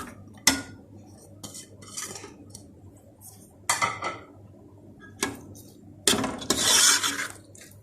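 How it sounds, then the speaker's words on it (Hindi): Chopped onions go into ghee in a metal cooking pan, with clattering spoon-and-pan knocks, scrapes and a brief rising sizzle near the end, all close by with no talk. "और प्याज डालने लगी हूँ।"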